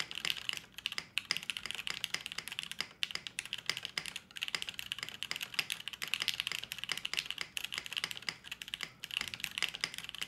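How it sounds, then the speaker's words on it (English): Steady, brisk typing on a Wendy TKL keyboard with crisp, dense clicking keystrokes and occasional heavier spacebar hits, close and continuous with no talking. "Ooh, it's hard to type on this."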